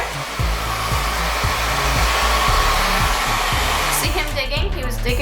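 A handheld blow dryer roars steadily and close while drying a young guinea pig's fur after a bath, its pitch wavering slightly as the nozzle is moved around, with a soft rustle near the end.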